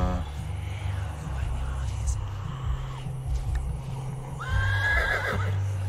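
A horse in a video game neighs loudly over a low rumbling background with hoofbeats, a drawn-out whinny rising near the end; a voice murmurs faintly.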